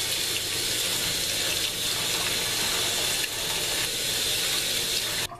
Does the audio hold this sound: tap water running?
yes